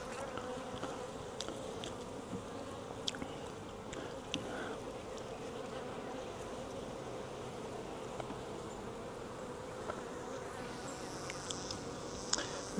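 A honeybee swarm buzzes steadily and densely close by throughout, a continuous hum with occasional individual bees flying past, and no voices.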